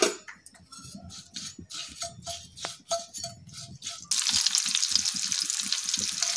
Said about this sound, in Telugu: ప్యాన్ పెట్టుకొని ఆవాలు, జీలకర్ర, కరివేపాకు వేసుకొని ఫ్రై చేసుకున్నాం.